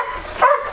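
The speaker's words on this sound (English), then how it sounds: "I apologize about the one dog barking at the two that are playing" A single short dog bark or yip rings out indoors, fairly close and alone, a dog barking at two other dogs that are playing.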